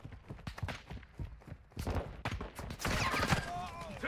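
Gunfire crackles in Call of Duty Modern Warfare II DMZ on Ashika Island, sharp irregular shots and bursts mixed with footsteps and other game noise, then a denser burst of fire.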